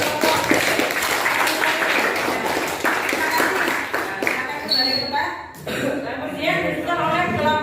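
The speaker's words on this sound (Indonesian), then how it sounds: "tepuk tangan untuk kelompok" A classroom applauds a student group, a busy run of overlapping claps close by with some murmuring and laughter, thinning briefly before the clapping picks up again.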